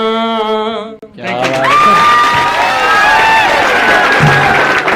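A crowd at a college show at Guru Gobind Singh ITI in Bhaini Bagha, Mansa, bursts into cheering, whistles and clapping right after a sung line breaks off, and the noise stays loud and sustained.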